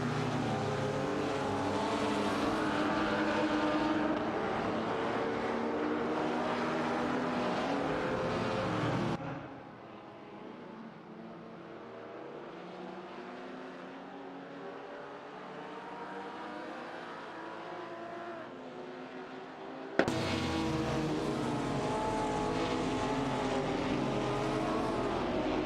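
AI-driven race cars in a simulated racing game roar past with sustained, droning engine whine, loud at first, dropping to a muffled, quieter stretch in the middle, then returning loud and close.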